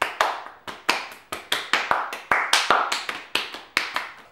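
Two people playing a hand-clapping game during a makeup session, slapping hands in a quick, uneven rhythm of crisp close claps and taps that run steadily for several seconds with no talk.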